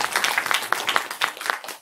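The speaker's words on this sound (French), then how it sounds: "Ça s'applaudit, s'il vous plaît." An audience claps during a science theatre show at a festival, a dense patter of many hands in a room that rises and falls briefly, with no voices over it.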